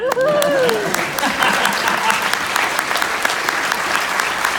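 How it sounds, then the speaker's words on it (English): Loud, sustained applause from an audience, dense clapping throughout, with a voice briefly audible at the start. "It's okay to applaud."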